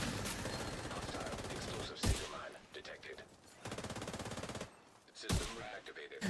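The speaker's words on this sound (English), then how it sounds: "I'm trying to shoot his man bun off" Rapid automatic gunfire in The Division 2, two sustained bursts broken by brief pauses and a couple of sharp single cracks, moderately loud and close.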